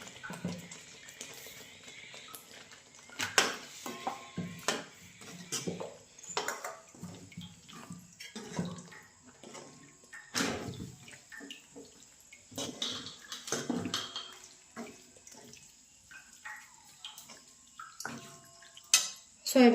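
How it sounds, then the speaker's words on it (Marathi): Soybeans tip into a masala in a pan and get stirred, giving quiet, intermittent scraping, clatters and knocks of a spoon against cookware in a home kitchen. "आता सोयाबीन टाकून घेते"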